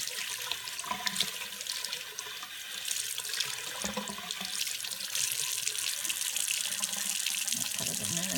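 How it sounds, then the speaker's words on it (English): Makeup brush being sloshed around in a container of water, a steady, close, faucet-like watery swishing that runs continuously, with no talking. "put it in here and slosh it around"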